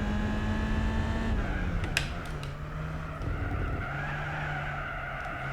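In the Gran Turismo 4 racing game, a car brakes hard with a sustained tire skid and squeal over its droning engine, the engine pitch dropping as it slows, with no talk.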